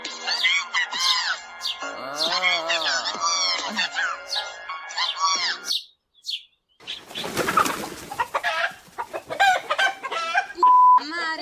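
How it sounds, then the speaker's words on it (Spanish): Chicken clucks and bird calls sound fairly close in a busy, varied passage, with a short silent gap near the middle followed by a burst of broadband noise and more squawking. "se volvió a escapar este pollo de mierda"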